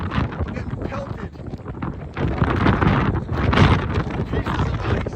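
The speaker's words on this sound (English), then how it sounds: "It's windy, it's cold." Strong, cold wind roars over the summit of Mount Etna, with hail in the air; a loud, continuous buffeting rush that swells and gusts throughout.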